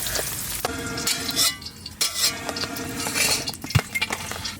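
Capsicum lightly frying in a pan, a soft steady sizzle with irregular stirring scrapes and light clatter, close and alone.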